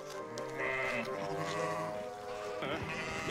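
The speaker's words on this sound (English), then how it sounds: "It's a sheep stampede." Sheep bleating from a toy train set sound effect, several overlapping bleats forming a continuous chorus for a few seconds, fairly close and steady.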